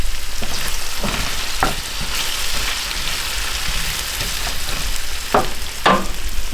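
Pork and vegetables frying in a stir fry pan give a loud, steady sizzle, with occasional stirring scrapes and pops close by.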